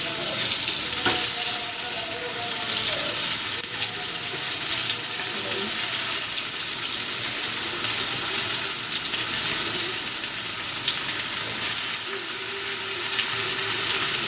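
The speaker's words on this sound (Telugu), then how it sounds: "అన్నీ వేసేసి ఇప్పుడైతే దీన్ని బాగా ఆయిల్లో ఫ్రై చేసుకోవాలి." Tomatoes and spices fry in oil for a dondakai (ivy gourd) gravy curry, giving a loud, steady sizzle with bubbling and occasional stirring scrapes, close and continuous throughout with no one speaking.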